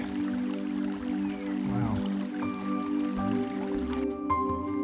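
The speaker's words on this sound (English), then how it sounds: "Little raindrops on the lake." Soft drips and light patters of rain on a mountain lake along the John Muir Trail, close by and gentle, over a steady low hum.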